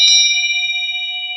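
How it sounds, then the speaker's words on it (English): A handmade bell, played like a singing bowl, is struck once and gives a bright, clear ring that sustains and slowly fades, close and alone. "first thing is like this handmade bell, dinner Beautiful. bell or whatever you want to call it. So you can use it like a singing bowl"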